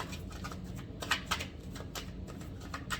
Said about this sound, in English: I'm going to just shuffle this deck for a moment